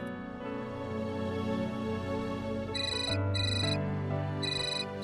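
A phone ringtone plays as an electronic melody with steady repeating tones, close and clear, over a soft musical background in a household scene.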